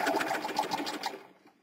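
A sewing machine runs a quick burst of rapid, even stitches along a straight skirt, close and clear, then slows and stops within under two seconds.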